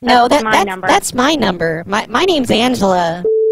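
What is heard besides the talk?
None of the usual background noises is heard.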